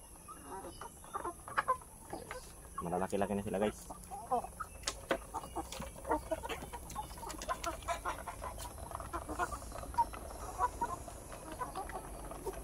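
Gamefowl chickens and stags on a farm, with occasional clucks and crowing mixed into outdoor ambience while someone talks over them.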